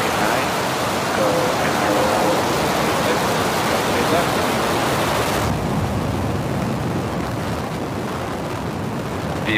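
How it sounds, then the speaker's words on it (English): A SpaceX Falcon 9 rocket lifts off on the NROL-146 mission, its engines producing a loud, continuous broadband roar that drops slightly in brightness midway but keeps rumbling steadily. "Ignition. And liftoff Falcon 9."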